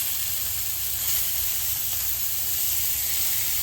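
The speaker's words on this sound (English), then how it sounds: "we're gonna brown these on all sides" Meatballs searing and browning in a hot pan give a constant close sizzle, an even frying hiss with a faint low rumble beneath and no talk over it.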